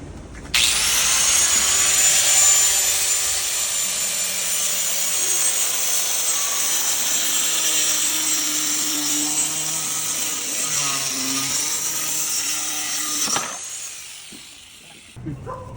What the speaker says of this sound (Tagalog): Puputulan ko na lang. Ito natin to guys. Ng grinder.